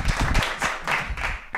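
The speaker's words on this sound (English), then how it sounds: "Big round of applause for Daniel Daggeris, ladies and gentlemen." Brief applause from a stand-up comedy audience, a short burst of separate claps close by, fading quickly after a second and a half.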